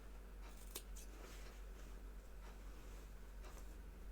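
Scissors snip the fabric corners of a medical mask, a couple of faint, quick cuts close by in a quiet room with a low steady hum underneath.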